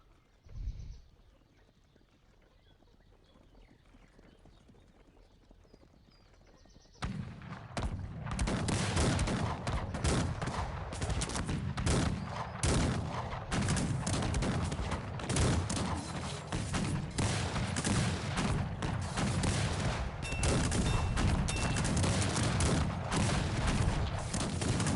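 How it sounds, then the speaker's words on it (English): Cannon fire from a Cossacks 3 battle starts after a quiet opening and becomes a dense, continuous barrage of booms and gunfire crackle, loud and sustained, with hoof clatter mixed in. "Wow, just a shit ton of cannons right on that position"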